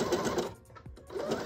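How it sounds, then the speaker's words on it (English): A sewing machine stitches a corded pillow made from curtain panels, running in fast close bursts with a brief pause in the middle. "How you can just complete the whole thing on the sewing machine."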